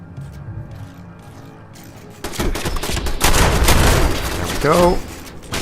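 Rapid gunfire from the player's weapon in Fallout 76, starting abruptly after a quiet stretch and continuing as a dense, loud burst for several seconds, with someone speaking briefly over it.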